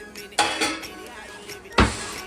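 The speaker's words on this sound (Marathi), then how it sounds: "झाकण दे आता, म्हणजे जरा शिजय" A lid being set on a cooking pot, two sharp metallic clanks with light rattling between, close and without talking.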